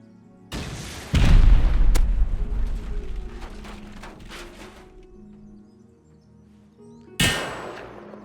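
In the video game Rust, gunfire rings out as bullets hit targets: a loud booming shot with a long ringing decay, quieter metallic pings in the middle, then another sharp blast near the end.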